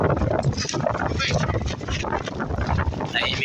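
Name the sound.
wind out at sea on a boat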